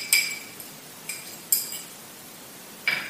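Light metallic clinks of a utensil striking a bowl while flour is mixed with salt, baking powder and cornstarch for chocolate chip cookies, with about five sharp separate taps over a quiet background.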